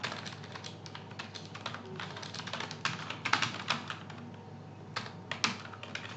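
Rapid, steady typing on a computer keyboard, a close run of light key clicks with brief pauses, fairly quiet and heard on its own.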